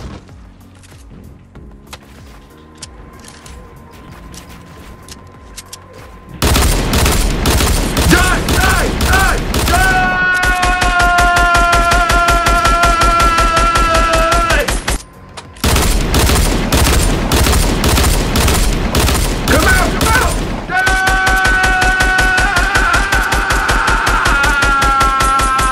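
Rapid gunfire in the video game Fortnite comes as loud, sustained bursts of dense shots after a quieter opening, with a brief gap midway and continuous firing to the end.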